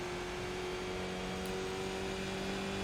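A Mazda MX-5 held at full throttle in an iRacing race at Lime Rock Park, a steady, sustained engine drone with a constant pitch and a thin whine on top, loud and unbroken with no voices.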